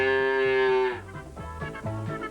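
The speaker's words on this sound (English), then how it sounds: "and a cow," A cow lets out a single long, loud moo that holds steady and then breaks off, followed by a few softer grunting, lowing sounds as part of a children's farm-animal game show.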